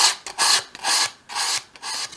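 Fine abrasive paper rubs against the wooden corners of a 1/12 scale model shop in four steady, rhythmic strokes, close and fairly soft, with brief pauses between passes.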